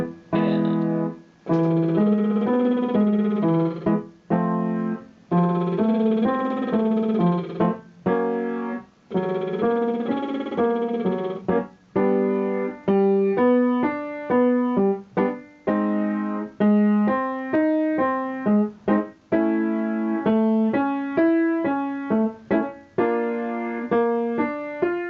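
Piano plays a repeated arpeggio pattern for a lip-trill vocal warm-up, clear sustained notes stepping up and down in short phrases with brief gaps, stepping to new starting pitches throughout.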